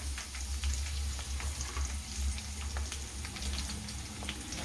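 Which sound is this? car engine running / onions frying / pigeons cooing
onions frying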